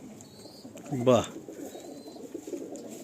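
Teddy pigeons in a loft give a single short, throaty coo burst near the middle, close and fairly clear, while people talk quietly around it and one briefly exclaims.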